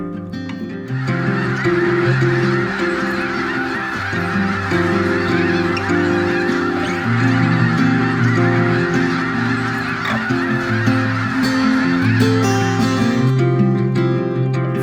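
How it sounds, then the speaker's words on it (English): A large flock of wintering geese at Gray Lodge Wildlife Area in Gridley, California honks continuously, many overlapping calls forming a loud, dense chorus throughout. "We saw lots of geese, lots of ducks."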